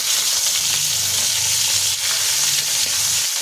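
Fenugreek, five-spice seeds and four green chillies sizzle hard in hot oil left from frying fish, a dense continuous crackling hiss at close range with no voices.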